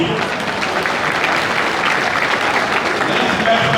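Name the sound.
crowd applause at political manifesto launch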